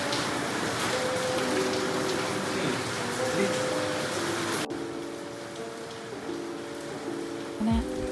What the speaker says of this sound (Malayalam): നല്ല മഴയുണ്ട് കേട്ടോ പുറത്ത്.